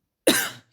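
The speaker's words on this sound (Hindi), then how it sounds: "खांसी पता नहीं क्यों हो रही है इतनी" A single sharp cough from a man during a history lesson, close and fairly loud, lasting under half a second with silence before and after.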